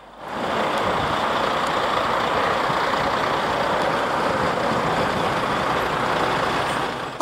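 Trucks drive past a police checkpoint in a steady, loud roar of engines and tires that holds throughout with no clear gaps, with no talk.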